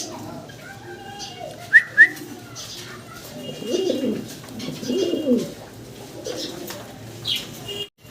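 Fancy pigeons coo softly and close by, with several rounded, throaty coos and a couple of brief sharp chirps amid low background noise.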